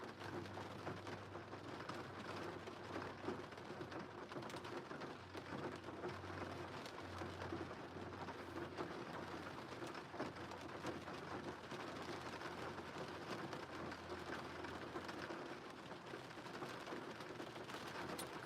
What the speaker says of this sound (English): which may be why you can hear the raindrops so much better